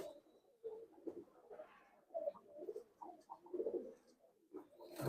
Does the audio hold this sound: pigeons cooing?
yes